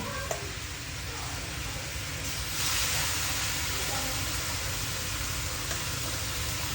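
Spicy basil pasta with shrimp and squid stir-fries in a pan, a steady broad sizzle and hiss that swells louder partway through, with occasional scraping of stirring.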